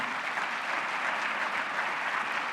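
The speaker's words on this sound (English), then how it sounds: "We got to clap for that too." Steady applause from a Chamber of Commerce Thanksgiving audience, many hands clapping at an even density for a couple of seconds with no voices standing out.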